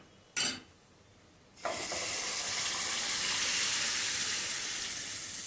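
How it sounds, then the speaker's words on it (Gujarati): Boiled dal is added to a hot dhaba-style tadka gravy, triggering a brief splash and then a loud, steady sizzle that swells and holds until the end, with no talking. "જે દાળ બાફીને આપણે રાખી હતી તે દાળ એડ કરી દઈએ."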